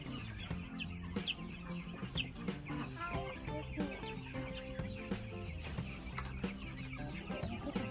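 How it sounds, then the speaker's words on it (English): Chickens cluck and squawk in a busy flock nearby, overlapping calls continuing throughout at a moderate level. "How many chickens are in there?"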